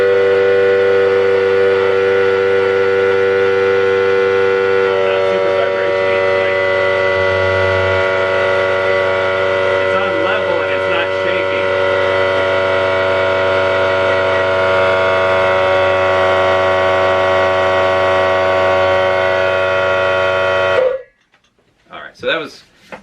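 Hyper Tough 3 gallon air compressor running with a steady, loud mechanical whine and hum that holds unbroken for about twenty seconds, then cuts off abruptly, leaving brief faint clunks afterward.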